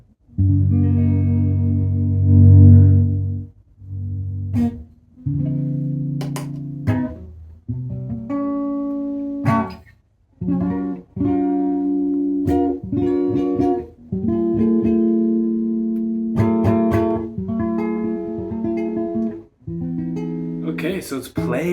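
Electric guitar notes and chords from a cheap Squier Mustang played through effects, with chorus and distortion coloring the tone, ringing phrases separated by short pauses.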